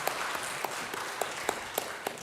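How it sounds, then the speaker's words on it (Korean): Congregation clapping during a Korean church Sunday worship service in Baltimore, a dense, close wash of applause with a few sharper claps standing out, continuous and without speech. "하나님께 영광의 박수를 올려드리겠습니다."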